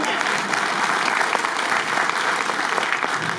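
Loud, dense applause from a big crowd at a saints' conference gathering, continuous rapid clapping filling the moment without pause.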